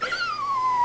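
A dog howls in a single drawn-out, slightly falling wail, close and clear, with no talking over it.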